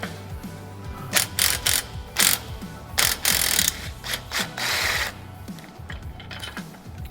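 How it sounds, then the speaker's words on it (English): A hand ratchet with a 9/16 socket clicks in quick bursts while reversing a tensioner shuttle, sharp metallic ratcheting strokes spaced irregularly and close up, with no voices. "reverse your 9/16 socket and reverse the shuttle all the way back to the starting point"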